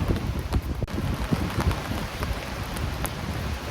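Heavy rain pours steadily outside a wild camping tent in Ireland while wind gusts through, a dense continuous hiss with scattered louder drops and no voices.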